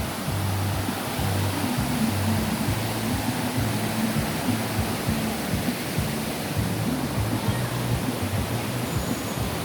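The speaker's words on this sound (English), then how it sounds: "This is a nice little waterfall." A small waterfall spills over slippery rocks on a mountainside in Nong Khai, a steady close rushing roar filling the whole span without a break.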